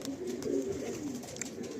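Madrasi breed pigeons coo softly and continuously nearby in a short stretch of low, rolling murmur with faint background noise.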